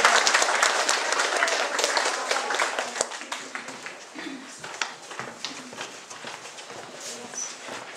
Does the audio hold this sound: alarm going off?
no